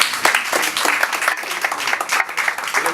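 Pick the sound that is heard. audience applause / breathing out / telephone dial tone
audience applause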